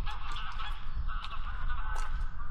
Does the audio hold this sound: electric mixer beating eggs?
no